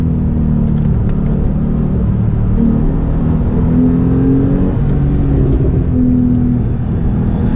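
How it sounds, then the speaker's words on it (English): A Porsche 911 Turbo engine accelerates on an early-morning drive, a loud, steady, close droning roar from inside the car that rises gradually in pitch, with no talking. "it's just so much faster with these turbochargers"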